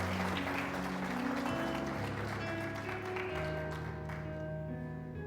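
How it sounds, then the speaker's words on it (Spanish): Congregation applauding in church during a sermon, steady clapping mixed with sustained organ or keyboard chords that shift underneath, the whole sound moderately loud and continuous. "¿Cuántos pueden aplaudir al Señor?"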